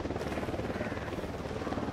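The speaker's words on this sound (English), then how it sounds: "Helicopter incoming." A helicopter approaching in the video game Ghost Recon Wildlands, with a steady rhythmic rotor chop throbbing loudly and evenly throughout, heard alone.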